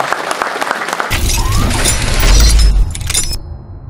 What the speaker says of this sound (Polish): Brawa dla Kuby.